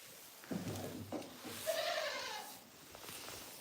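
Goats in a barn let out a few wavering bleats, fairly faint and spaced apart, over a low quiet room background.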